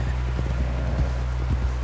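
Horse hooves thud in a steady plodding rhythm in the video game Red Dead Redemption 2, heard close under a constant low rumble of ambient game sound.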